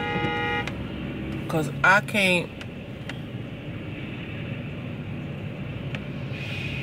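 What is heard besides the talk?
semi-truck and traffic on the road, horn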